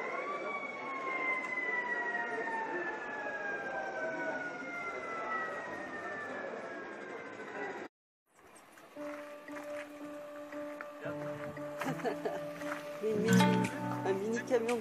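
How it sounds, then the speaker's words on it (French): A fire truck siren wails with a slowly falling tone for about eight seconds at a fire brigade's 160th anniversary event in Anneyron. After a sudden cut, people talk over mixed street noise and tones. "Un mini camion de pompiers."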